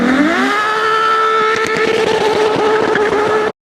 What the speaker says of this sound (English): Ferrari F12 launch control.